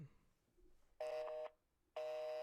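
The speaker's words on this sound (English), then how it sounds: "We're calling it." Two loud electronic telephone tones, each about half a second, sound in sequence during a dial-out to a saved number, with brief quiet gaps between them.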